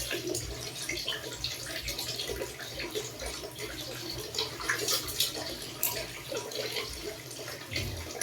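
Water runs from a tap during a baby's bath time, a steady close-up splashing and trickling stream that continues throughout with no talk over it.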